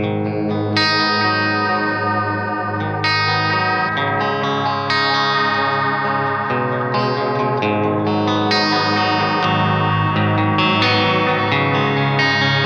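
An electric guitar played through a Jam Pedals Delay Llama Xtreme delay pedal in vibrato mode, with sustained, wavering chords and notes that shimmer with pitch modulation and echo, played loud and continuously without any talking.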